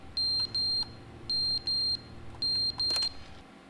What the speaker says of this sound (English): It's like a smoke alarm.